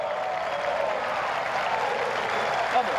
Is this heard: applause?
yes